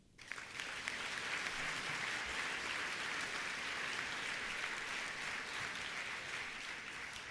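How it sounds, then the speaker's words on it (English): Sustained applause at a Digital India technology dinner in San Jose, California, honouring tech company leaders: a dense wash of many hands clapping, fairly distant and even, holding steady for several seconds. "please give a round of applause to John, to Satya, to Paul, and to Sundar."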